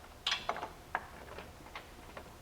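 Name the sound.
removing lower condenser bolts on 2003 Hyundai Santa Fe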